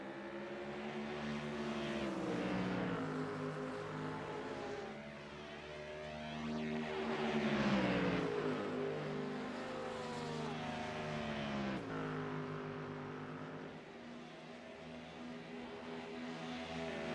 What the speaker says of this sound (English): It will be Brendan Myers to lead Holloway around the racetrack on the fourth lap.